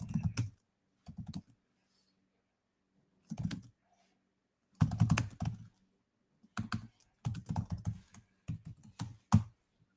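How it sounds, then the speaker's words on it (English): Typing on a computer keyboard comes in short bursts of close, quick key clicks separated by pauses, growing busier toward the end with no talk. "I'm going to type a little something in here."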